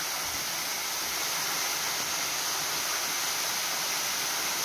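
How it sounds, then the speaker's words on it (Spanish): Cascada las Hadas in Acaxochitlán, Hidalgo, a waterfall about 35 metres high dropping into a pond, gives off a constant broadband roar of falling water with no breaks. "Una caída de unos 35 metros de altura con un bonito estanque"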